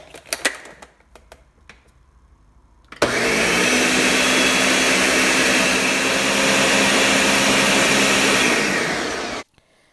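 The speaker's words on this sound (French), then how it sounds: "on va commencer à battre ce mélange, à le mélanger pendant quelques minutes" An electric mixer whirs at steady high speed, beating batter for baghrir, the Moroccan thousand-hole semolina crepes, after a few faint clicks and knocks; the motor runs loud and constant for about six seconds, then cuts off abruptly.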